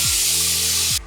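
A paint spray gun sprays paint onto a steel sailboat in one loud, continuous hissing burst lasting about a second, then cuts off abruptly as the trigger is released.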